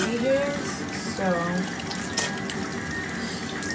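Bathroom sink faucet running steadily while a face is washed, with water splashing and hands lathering close by; someone talks briefly over the flow near the start.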